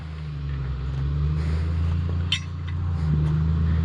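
A skidder engine rumbling steadily as throttle is applied, a low continuous drone with a brief metallic clink partway through, close by and without talk.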